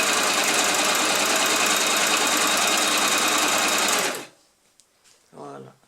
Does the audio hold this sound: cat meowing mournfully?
no